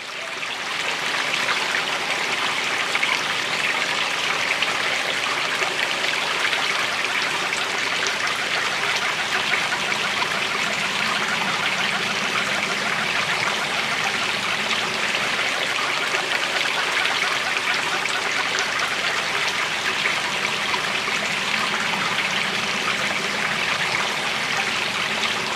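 The Umfolozi River flowing past a picnic site on its banks, a steady rushing, trickling water sound, continuous and fairly loud with no voices.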